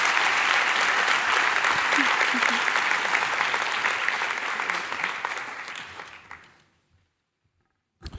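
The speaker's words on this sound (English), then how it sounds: "let's give ourselves a round of applause for a beautiful and successful event" An audience at a school of healthcare sciences declaration ceremony applauds loudly and steadily, the clapping thinning and fading away into silence before a brief noise at the very end.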